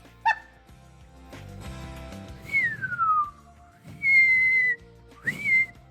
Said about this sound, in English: I'm just gonna edit out the whistling I tried